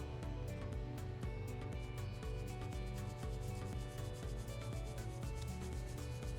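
Enzyme stain remover is rubbed into a grease-stained fabric in a continuous, rapid scrubbing rhythm, close and even throughout, with no voices.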